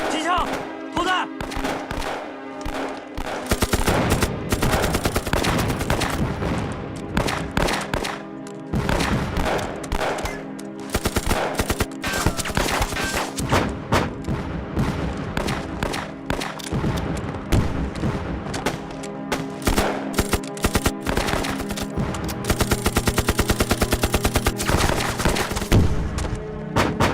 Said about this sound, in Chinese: 让机枪组拿机枪压制，投弹组投弹